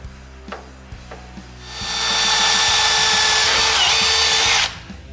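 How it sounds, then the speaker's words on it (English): A power drill with a 3/16 pilot bit whirs steadily for a few seconds as it bores into steel, starting after some light tapping and stopping abruptly. "I'm gonna start with a pilot, this is a 3/16 drill bit"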